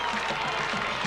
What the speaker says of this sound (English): great crowd on hand